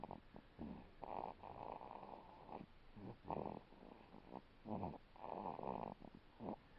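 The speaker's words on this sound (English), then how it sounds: "He's snoring again." A one-month-old baby snoring while asleep, soft and close, in a series of short, irregular snorting breaths with quiet gaps between them.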